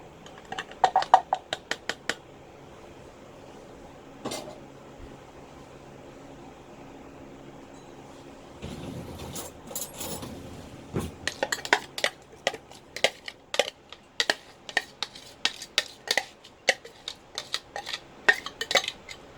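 Kimchi mixture scraped and transferred into a bowl, with a long run of sharp utensil clinks and knocks against dishware, sparse at first and then rapid and busy, close and fairly loud with no talk.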